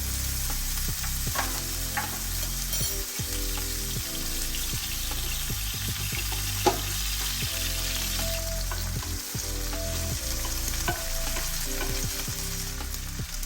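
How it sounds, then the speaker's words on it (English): Garlic roasts in olive oil in a pan after steak has been seared in it, with a loud, steady sizzle and crackle that runs throughout along with occasional stirring clatter. "we're gonna add some olive oil, which we need to roast the garlic"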